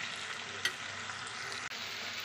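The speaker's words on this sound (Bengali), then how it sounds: "এবার ভালোভাবে আদা রসুনটাকে আলুর সঙ্গে ভালোভাবে কষিয়ে নেবো যতক্ষণ না কাঁচা গন্ধটা চলে যায়।" Small new potatoes stir-fried with ginger and garlic in a pan give a steady, close sizzle, broken by a couple of brief scraping stirs and no voices.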